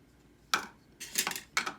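Metal pieces of a camping cooking pot set, with scouring pad, small ladle and forks, clink and clatter in three quick bursts, close and fairly loud against a quiet background.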